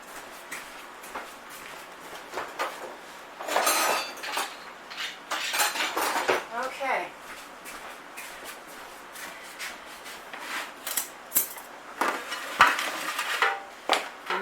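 Spatula scraping and spreading thick blondie batter into a baking pan, a run of close, soft scrapes and knocks against the pan with irregular pauses, no talking.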